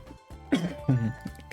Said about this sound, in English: God, I'm coughing a lot.